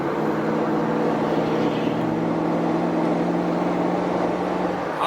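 An LT1 engine sputters under hard throttle, struggling to gain speed: a steady, close, droning hum with a low rumble underneath, holding even throughout with no voices.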